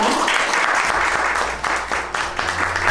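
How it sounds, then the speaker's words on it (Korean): Audience of press guests applauding at the Bentley Cube launch event in Seoul, a steady burst of clapping across the whole stretch, loud and fairly close, with no speech over it. "여러분 큰 박수 부탁드립니다."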